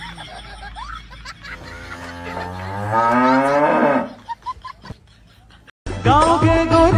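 A buffalo moos in a long, loud, rising bellow in a rural village setting, followed by short calls and a burst of music at the end.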